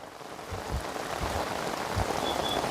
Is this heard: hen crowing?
no